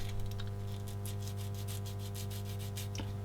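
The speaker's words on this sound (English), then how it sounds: "Now let's do a bit of sanding." Light, steady sanding strokes rasp in a quick even rhythm over a constant electrical hum, close by with no talking, as a part of a 1/35-scale Schwimmwagen Trippel SG 6/38 model kit is sanded.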